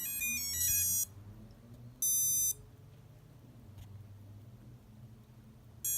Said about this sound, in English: It's calibrating the third speed controller, now the fourth. Okay. Once it stops beeping